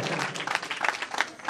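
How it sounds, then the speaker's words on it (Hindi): A crowd applauds at an award ceremony for a jasgeet singing competition, with brisk, dense clapping that stays fairly steady, flares in a few louder bursts, and continues without a break. "जोरदार तालियों का स्वागत करें"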